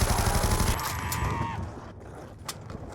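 Bursts of gunfire from Black Ops 2 Zombies, a rapid run of shots loud at the start that thins out into a few scattered, fainter reports.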